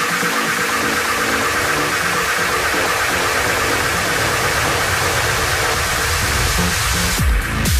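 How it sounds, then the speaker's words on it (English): Soviet KM ekranoplan, a 540-ton ground-effect craft, with its eight front jet engines at full power lifting it out of the water: a steady, loud roaring rush of broadband noise with no voices. "The 8 front engines roared to life, propelling the KM forward and out of the water."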